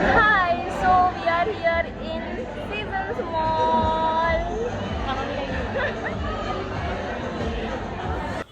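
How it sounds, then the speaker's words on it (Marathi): Weekend crowd filling Seasons Mall in Pune, a steady indoor hubbub of many overlapping voices and chatter with shoppers moving about, continuous and fairly loud throughout. "तर ही विकेंडची गर्दी होती इथली"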